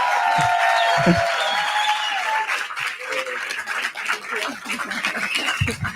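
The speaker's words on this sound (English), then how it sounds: "give a ridiculously big round of applause to the woman that made this happen" An audience at a talk event on artificial intelligence gives a round of applause with some cheering, a moderate wash of clapping heard under a speaking voice that carries on throughout.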